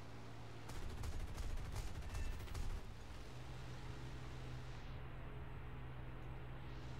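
Rapid aircraft cannon fire from a P-63 Kingcobra in War Thunder rattles for about two seconds over a constant engine drone, then only the droning hum continues.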